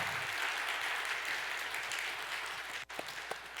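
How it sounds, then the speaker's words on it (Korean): Steady applause from a church congregation at a Korean Sunday worship service fills the room, a sustained patter of many hands clapping with one brief dip near the end. "마음 담아서 박수 한번"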